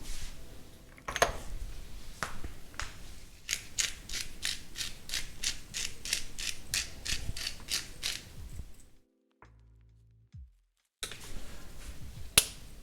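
A pepper mill grinds pepper over a cooking pot outdoors near a campsite, a close series of rapid ratcheting clicks in bursts, pausing briefly before another short burst of grinding.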